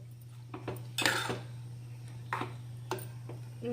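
A spoon stirs cabbage and moong dal curry in a metal pan, giving sparse, irregular metallic clinks and scrapes over a steady low hum.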